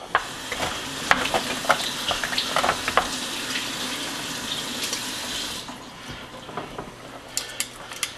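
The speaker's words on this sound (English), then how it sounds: "Gonna give that a stir." Swiss steak sauce with diced canned tomatoes stirred in a pot on the stove: a spoon scrapes and clinks in irregular strokes over a bubbling, sizzling simmer, close and clear, with no talk.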